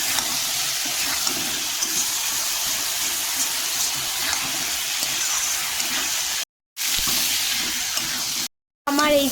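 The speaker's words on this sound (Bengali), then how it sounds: "এবার ভালো করে কষে নেব" Taro and potatoes sauté in a pan with a continuous loud sizzle and stirring, cut by two brief silent gaps near the end.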